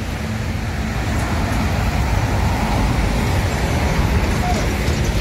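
Steady, dense roar of heavy road traffic on a busy bypass road in Palembang, Indonesia, with intercity buses passing close by, loud and continuous throughout, with faint voices in the background.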